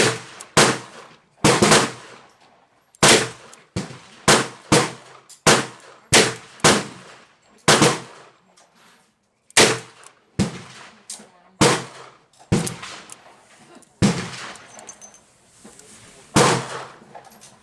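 Repeated gunshots at an outdoor shooting range, likely a revolver firing .35 Remington bullets in .38 Special, each shot a sharp loud crack with a short decay, spaced about a second apart and coming in quick irregular runs with brief pauses.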